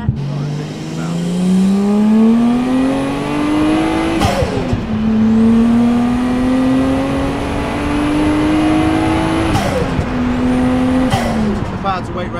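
A pink Nissan Silvia PS13 with a 1JZ engine and a Blitz air filter revs repeatedly, the engine note climbing in pitch, dropping sharply and climbing again, while people talk nearby.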